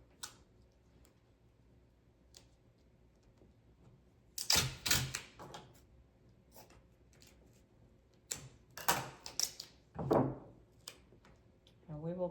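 Duct tape being pulled off the roll and pressed down while holding string in place on a DIY wall string art board, heard as a few loud ripping bursts with quieter clicks between, close by.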